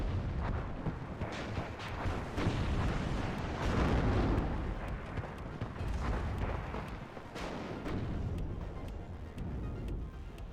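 Artillery fire in the WARNO strategy game, a dense rumble of deep booms and bursts rolling on continuously with sharper impacts scattered through, moderately loud.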